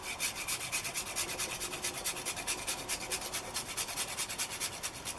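Fresh unpeeled ginger rubbed across a grater in steady, fast back-and-forth strokes, a close rasping scrape repeating evenly with no voices.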